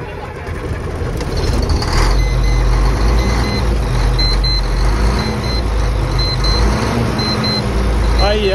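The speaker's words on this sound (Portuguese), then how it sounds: "Mas tá funcionando. E o ronco dele tá bonito." A 2000 Volvo NH380 truck engine idles with a steady, loud, deep rumble that holds throughout, with faint intermittent high beeps in the background.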